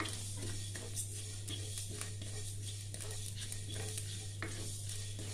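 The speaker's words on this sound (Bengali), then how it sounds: "এবার আমি এটা খোলা কড়াইয়ে ভাজবো।" Half a spoon of radhuni spice seeds fry in an open kadai over low gas, giving a steady soft sizzle with scraping stirs and light clinks of the spoon against the pan over a constant low hum.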